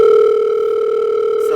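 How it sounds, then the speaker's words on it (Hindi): A phone tone sounding at an event, a loud steady electronic beep held continuously up close with no voices over it. "सर आपका फोन आ रहा है."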